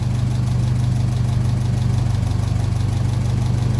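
A 1957 Ferguson 35 TVO tractor engine idles at 800 rpm, a steady low rumble, its rapid even chugging close by and loud, with no talking.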